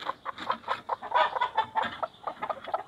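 A female turkey clucks repeatedly while being lifted off a clutch of duck eggs in a poultry coop, a busy run of close, loud, choppy fowl calls with no talk.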